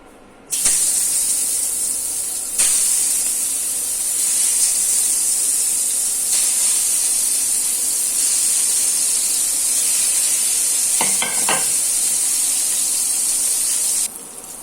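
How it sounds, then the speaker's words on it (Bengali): Eggplant slices hit hot oil in a pan used for frying fish, and a loud, steady sizzling hiss starts abruptly. The sizzle holds for over ten seconds with a brief clatter before it cuts off. "দিয়ে দিলে এবার বেগুন।"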